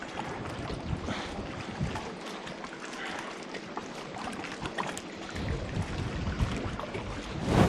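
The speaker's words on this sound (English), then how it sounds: "the wind is starting to blow super hard" Strong wind gusting over open water beside a boat at a residential dock, a steady broadband roar with rumbling buffets that swell louder toward the end, no voices.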